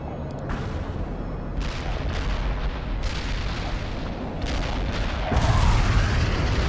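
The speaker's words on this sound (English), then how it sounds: "Heavy artillery barrage inbound." Heavy artillery barrage from World in Conflict, a dense, continuous roar of low rumbling blasts with scattered sharper impacts, swelling louder toward the end.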